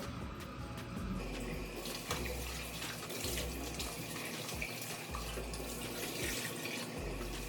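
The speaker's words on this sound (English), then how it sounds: "Then you just rinse it off." A kitchen faucet runs steadily while seasoned catfish is rinsed under it, water splashing continuously and close at moderate volume with no talk.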